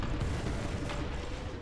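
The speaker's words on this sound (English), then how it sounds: "I love this thing with the hydro rockets" Attack helicopter rockets fire in War Thunder gameplay, a dense, loud rumbling barrage of launches and booming impacts running continuously without pause.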